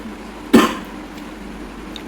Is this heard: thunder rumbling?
no